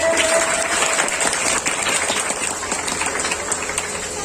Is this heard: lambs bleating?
no